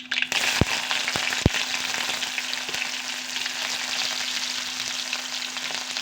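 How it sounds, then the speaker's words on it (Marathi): Onion dropped into hot oil in a pan for a beans bhaji, sizzling in a loud, steady hiss with a few sharp clinks near the start and a faint hum beneath. "गरम झालं त्याच्यामध्ये कांदा टाकून देऊया।"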